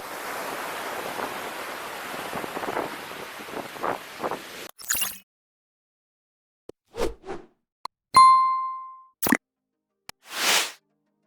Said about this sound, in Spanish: A muchos de nosotros nos hace feliz cuando escuchamos el sonido de las olas